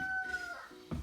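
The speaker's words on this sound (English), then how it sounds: "Maybe I'm the only art video that has a rooster in the background." A rooster crows in the background of an indoor art class, one long drawn-out call that fades partway through, followed by a short low thump near the end.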